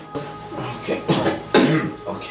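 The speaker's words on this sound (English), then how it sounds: "this cough, is there something about it?" Several raspy coughs from a man in a Nigerian Nollywood drama scene, a run of short hacking bursts spaced through a couple of seconds, close and fairly loud.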